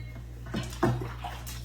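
Water runs from a tap into a bucket for cleaning floors in a home kitchen. It makes a few splashy gushes over a steady low hum.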